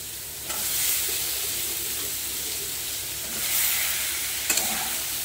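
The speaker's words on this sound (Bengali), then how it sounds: "এবার দিয়ে দিচ্ছি শাপলা। এবার শাপলা দিয়ে কষে নেব।" Water lily stems sizzle and hiss in a pan as they are sautéed and stirred with poppy seed paste. The frying is steady and close, with a brief scrape of stirring near the end.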